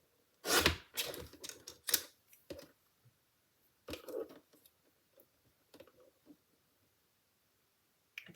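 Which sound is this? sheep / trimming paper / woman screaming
trimming paper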